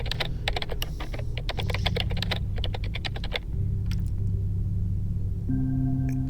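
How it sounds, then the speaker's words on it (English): Rapid keyboard typing in the Genesis Alpha One video game, heard while debris is being scanned, clatters in quick bursts over a steady electronic hum and tones, with no voices. "if I hold E, apparently I start typing away and I'm scanning the debris out there"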